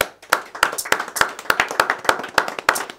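Wedding guests clap together in a steady, rhythmic unison beat, about three claps per second, close and fairly loud, with no other sound.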